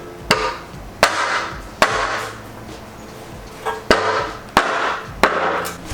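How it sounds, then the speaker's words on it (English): Hammer blows knock dents out of the metal skid plate of a 1979 Odyssey FL250 two-stroke off-road go-kart, seven sharp ringing strikes at uneven intervals, close and loud with no talk. "we're going to try and get these dents out the skid plate"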